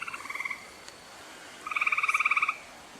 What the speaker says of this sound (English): Oh, that's a frog, and there was a toad.